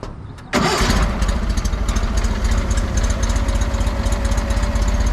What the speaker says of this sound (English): I haven't fired this thing up at all today with no choke, and it barely turns over and fires up